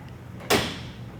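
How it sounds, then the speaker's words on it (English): A door in a meeting room shuts with a single firm thud, close and brief, over a low room hum. "So is it better with the doors closed?"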